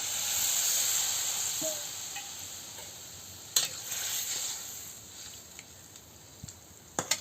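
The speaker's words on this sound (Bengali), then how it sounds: "এবার আমি পরিমাণ মতন জলটা দিয়ে দিচ্ছি" Water poured into a hot pan of banana stem curry, a loud hiss at first that fades into a soft simmer, punctuated by a few scattered spoon clinks.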